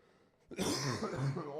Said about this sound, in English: That's the last of my cough, though.